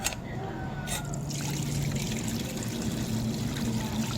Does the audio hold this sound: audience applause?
no